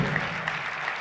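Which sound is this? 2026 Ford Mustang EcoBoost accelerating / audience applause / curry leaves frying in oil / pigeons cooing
audience applause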